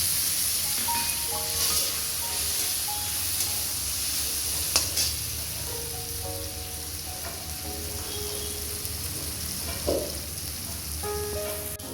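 Tomato hits a hot pan and fries with a steady, loud sizzle that carries through the whole stretch, with occasional utensil clinks and stirring scrapes. No one speaks.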